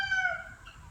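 A small rooster crows close by in a single bright, harmonic call that rises and then trails off, heard among chickens at a farmyard next to brush, with a low steady rumble underneath.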